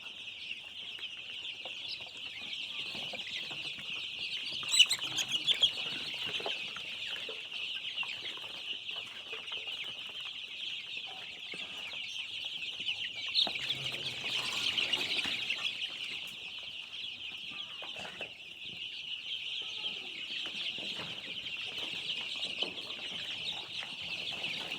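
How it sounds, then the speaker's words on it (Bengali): Six-day-old colour-breed chicken chicks on a farm, a large flock peeping in a steady, dense high-pitched chorus that continues throughout, close and unbroken, with occasional louder chirps. "এই আমার কালারবাট মুরগির বাচ্চা, আজকে বয়স 6 দিন রানিং।"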